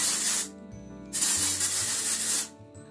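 Two long hissing bursts of aerosol dry texture hair spray, close up, separated by a short pause, with a third burst beginning at the end.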